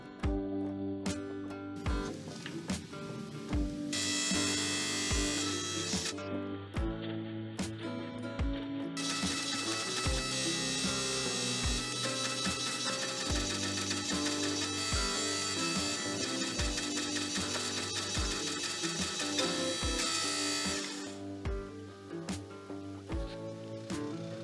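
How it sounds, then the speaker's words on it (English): Disc sander grinding a mosaic damascus knife billet, a continuous loud whining grind with shifting pitch as the steel is pressed on and eased off, steady machine hum underneath. "one of the main reasons I like to use a disc sander instead of my belt grinder"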